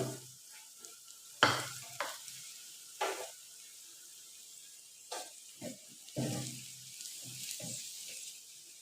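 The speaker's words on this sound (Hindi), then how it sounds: "अब इरवी को मैंने 5 मिनट फ्राई की है, तो ये बिल्कुल मुकम्मल फ्राई हो गई है।" Colocasia (arbi) pieces frying in oil, heard as a quiet, steady sizzle broken by several sharp scraping and stirring knocks against the pan. No one speaks.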